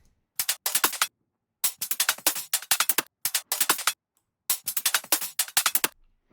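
Percussion built from chopped drum and bass loops: crisp, bright clusters of rapid clicky hits in short bursts separated by brief gaps, dry and close, with no talking.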